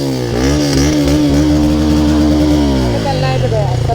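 A motorcycle engine revs loud and close as a group of four bikes, including an FZ, sets off toward Rangamati, its pitch climbing and settling in a continuous drone.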